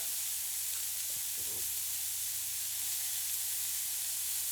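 Food sautéing in olive oil in a pan, a steady close broadband sizzle with brief clinks of tongs stirring, continuing alone without talk.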